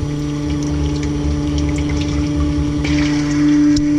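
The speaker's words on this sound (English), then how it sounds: "Be careful to have your mixer down in the liquid so that none splashes out." A mixer runs submerged in a homemade soap mixture of lye and liquid, giving a steady motor hum with a watery churn throughout.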